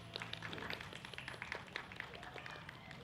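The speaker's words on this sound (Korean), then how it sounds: "굉장히 서정적인 멋진 노래 들려준 테너 성유린에게 다시 한번 박수 부탁드립니다" An audience claps for a tenor at an outdoor street festival, a steady patter of many hands at a modest distance, with faint voices mixed underneath.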